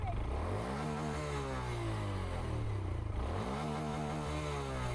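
A motorcycle engine revs up close, rising and falling in repeated throttle sweeps with a rough clattering idle underneath, loud and continuous.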